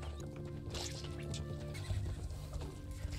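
A horse neighs in the farming video game Bazaar, a faint whinny set among a busy game soundscape with music and soft clip-clop and dripping effects.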